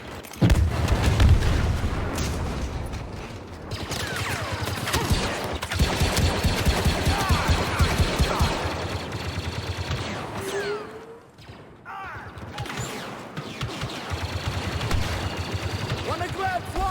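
Heavy weapons fire in Star Wars Battlefront II, with dense bursts of blaster and cannon shots and booming impacts that roll on continuously in a loud, chaotic battle, easing briefly midway before resuming.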